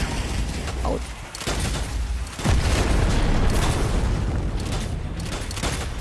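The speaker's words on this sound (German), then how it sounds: "Zünd den Knaller!" Dynamite explosions in the video game Strange Brigade: loud, dense booms and bursts in quick succession, with rumbling debris filling the whole stretch.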